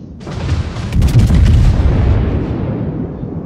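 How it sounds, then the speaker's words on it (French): Heavy naval cannon salvos from the Bismarck battleship in World of Warships, a loud booming blast that swells and rumbles for several seconds before slowly fading, with no talk. "je tire mes, mes canons en cadence de 4 et 4"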